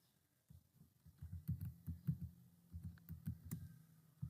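Keystrokes on a computer keyboard while entering a Windows shortcut and command, a quick run of soft clicks with short pauses, close and fairly quiet with no talking.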